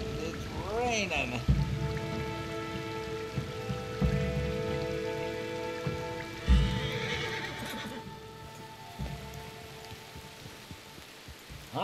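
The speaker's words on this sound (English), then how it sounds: "And it's raining." Rain in the video game Red Dead Redemption 2 patters steadily in the background while a horse whinnies and hooves clip-clop nearby, the downpour continuing under the animal sounds.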